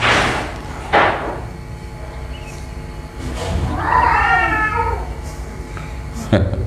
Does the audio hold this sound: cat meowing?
yes